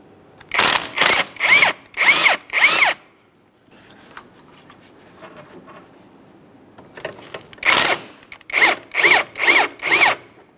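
A power tool, likely an impact driver or ratchet, backs out 14 mm bolts from the upper engine mount of a 2007-2013 Acura MDX, two sets of five rhythmic whirring pulses close up separated by quieter handling noise.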